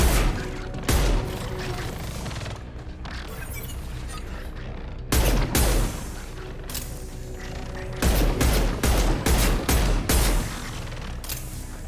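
Gunfire in the Mass Effect 2 video game, three loud bursts of rapid automatic fire at about 1, 5 and 8 seconds over a steady background of combat noise and music, close and without speech.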